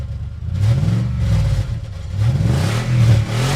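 A car engine revs up and pulls away, its pitch rising and falling in several surges over steady mid-range rumble, loud and close with no voices.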